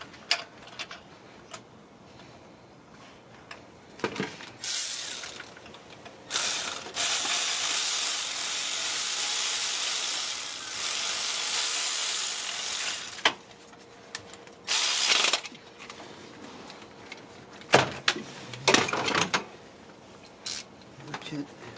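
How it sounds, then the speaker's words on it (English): Ratchet wrench snugging spark plugs on a 2011 Honda Odyssey, heard as bursts of rapid clicking, one long sustained run in the middle and shorter runs later, close up, with a few voice moments between. "Ratchet."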